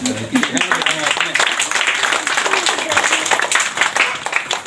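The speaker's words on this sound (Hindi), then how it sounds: "तो इनके को ताली" Audience applause at a Hindi-language gathering, a dense steady wash of many hands clapping that fills the clip at close range, with speech mixed in underneath.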